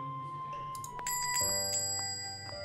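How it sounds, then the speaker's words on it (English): Café door bell chiming as a customer enters, a bright ding-a-ding ringing of several quick metallic strikes with lingering tones over a quiet room. "Ding-a-ding-ding! The doorbell rings as a customer walks in for the first time in a while"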